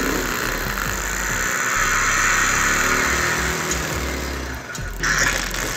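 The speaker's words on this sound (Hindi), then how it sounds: "तो सबसे पहले ये बाइक स्टार्ट करने की कोशिश कर रहे हैं" A motorcycle engine being started and run with an aftermarket ignition coil fitted, giving a steady, loud, close mechanical drone that swells slightly in the middle and near the end, with no talking.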